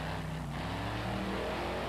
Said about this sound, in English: You can hear him on the throttle trying to get one of those 4 corners to touch something to pull that truck back down